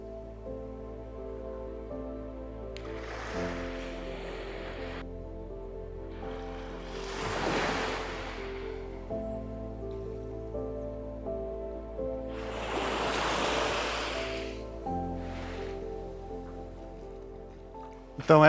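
Gentle surf at a small fishermen's beach, Praia de Calheiros in Governador Celso Ramos, with fishing boats nearby: soft waves wash in and recede in slow swells over a steady low background, with no talking.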